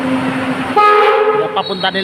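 An LRT light rail train sounds its horn, a loud near tone that starts midway and pulses in short bursts over a rumbling background.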